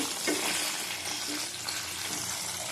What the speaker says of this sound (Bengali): চিনিটা ভাজা হচ্ছে দেখো